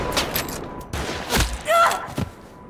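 Gunshots fired at a survivor in a game scene, several sharp close bangs and thuds in an uneven burst.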